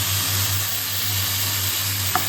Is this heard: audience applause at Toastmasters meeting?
no